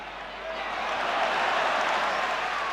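A football stadium crowd at the 1983 UEFA Cup final between Tottenham and Anderlecht breaks into applause, a broad swelling roar of clapping that builds and holds steady at a distance.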